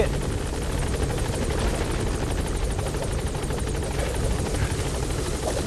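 Helicopter in the video game Metal Gear Solid V: The Phantom Pain, a loud steady rotor chop with rapid rhythmic beating over a broad engine roar, continuous and close throughout.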